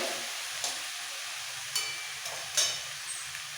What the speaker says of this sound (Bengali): এবার কন্টিনিউ নাড়াচাড়া দিয়ে নিতে হবে